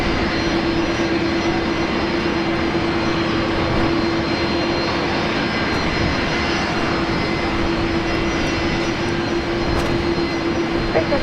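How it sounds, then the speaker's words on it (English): A Qantas Airbus A330 jet landing at Brisbane Airport, a long, loud, sustained engine roar with a steady tonal whine running through it and no speech. "the next Qantas 330 about to land"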